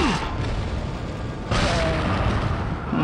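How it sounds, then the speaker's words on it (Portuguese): A thrown bomb bursts in Resident Evil 4, a loud boom followed by a second heavy blast about halfway through, each with a rumbling tail, with no talk. "Obrigado por ter jogado a bomba."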